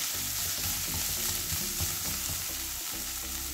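Boiled cabbage stir-fries on a high flame, giving a constant loud sizzle with busy scraping and tossing of the spatula in the pan, heard up close without talk.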